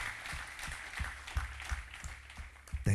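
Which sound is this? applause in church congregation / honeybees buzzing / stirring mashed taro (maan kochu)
applause in church congregation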